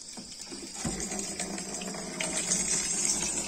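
Water gushing into a village water tank in a hill settlement, a steady close splashing flow that thickens slightly partway through.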